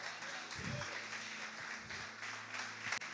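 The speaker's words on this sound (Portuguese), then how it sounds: "Aplauda Jesus por isso," A church congregation applauds in a faint, diffuse wash of distant clapping, with low voice-like murmur and a brief thump partway through.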